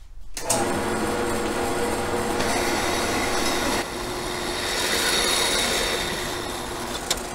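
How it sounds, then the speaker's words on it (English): A bandsaw cuts through a long steel chassis tube for a roll cage, giving a steady, loud, close grinding whine that runs almost the whole time with a brief dip midway. "it's here, my bandsaw. Let's go ahead and chop it off"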